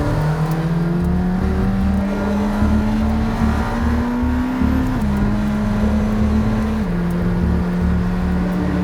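A McLaren Senna sports car under way at high speed, its engine drone holding a steady pitch that climbs slightly before stepping down, with continuous road and wind rush close by and no talk.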